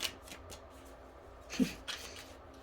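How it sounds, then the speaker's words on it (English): Tarot cards are shuffled close up, soft riffling and sliding with a sharper snap midway, fairly quiet and without talking. "Sometimes I get really powerful insights for myself when I'm just shuffling the cards."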